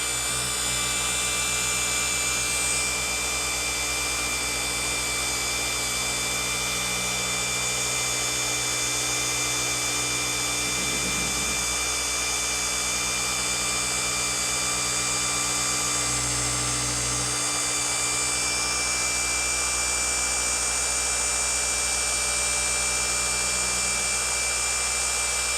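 A power polisher spreads and works compound across a surface, a steady continuous motor whine with a dense high-pitched hum running near and unbroken throughout, with slight shifts in tone as the pad moves.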